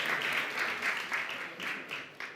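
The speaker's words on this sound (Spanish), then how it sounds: "Un aplauso, por favor." Audience applause at a conference talk: steady, dense clapping from a crowd that fills the room evenly and holds at a moderate level throughout.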